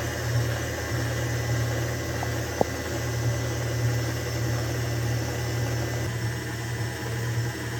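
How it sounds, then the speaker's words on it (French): Electric mixer whipping cream with mascarpone, sugar and vanilla sugar, a steady continuous motor hum with low droning vibration running throughout, close and even in level. "je sucre peu, mais vous pouvez en mettre davantage. Je rajoute un sachet de sucre vanillé et je commence à fouetter doucement"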